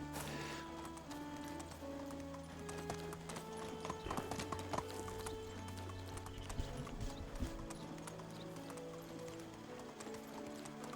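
Rhythmic clip-clop of a ridden horse's hooves in the medieval survival game Medieval Dynasty, steady and close over a bed of game music.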